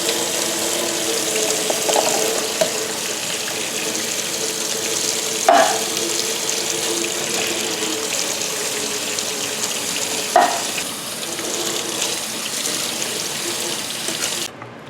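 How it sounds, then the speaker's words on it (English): A sink tap runs steadily as canned red kidney beans are rinsed under the water, a constant close splashing rush with a couple of faint clinks partway through. "grab your 2 cans of red kidney beans, strain them, and wash them in the sink"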